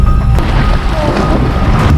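Heavy rain pounds a Suzuki S-Presso on a narrow, landslide-prone mountain road in Tinoc, Ifugao, a dense, loud, steady roar with a few low thumps and no talking.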